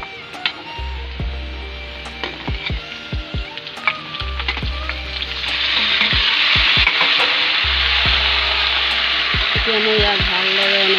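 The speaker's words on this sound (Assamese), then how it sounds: "এতিয়া মই ইয়াক ভালদৰে এনেকৈ লৰাই দিছোঁ" Ridge gourd, potato and tomato are stir-fried in a pan, starting with several sharp spatula clanks and low hums, then swelling into a loud, steady sizzle as stirring continues.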